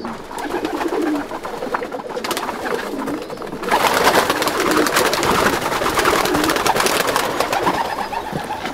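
Racing pigeons coo and rustle continuously nearby in a busy loft, with wing flutters and shuffling throughout; no one speaks.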